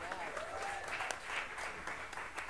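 Audience applause for Mama C at a Nuyorican poetry gathering, a steady wash of clapping that holds for the whole stretch with a few louder swells and some cheering mixed in.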